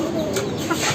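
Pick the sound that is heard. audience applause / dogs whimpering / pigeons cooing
pigeons cooing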